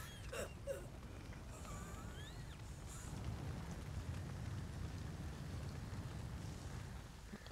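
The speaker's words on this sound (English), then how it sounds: "That's lucky it's raining now." Steady video game rainfall in Resident Evil 4 Remake or The Witcher 3 with a low rumbling wash underneath, constant and moderately loud, with a few faint chirps near the start.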